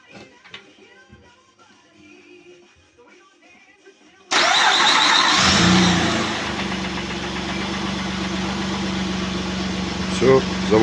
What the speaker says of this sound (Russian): Все, заводится.